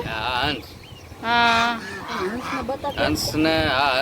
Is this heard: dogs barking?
no